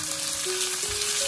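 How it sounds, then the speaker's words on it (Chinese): Pork belly stir-frying in a wok of hot cooking oil gives a steady, close sizzle with a faint tonal hum running underneath, no voices. "油热之后把五花肉先放入锅中给它翻炒一下"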